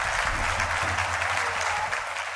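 Applause greets a good bonus on a casino slot machine, a dense, continuous patter of many hands heard at steady volume, with a faint low hum underneath and no speech.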